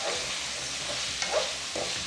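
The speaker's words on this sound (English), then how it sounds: "Wow, that is sizzling away." Chicken sizzles steadily in a hot pan while being stir-fried for pad thai, with a continuous crackle and a few soft scrapes of stirring, close and moderately quiet.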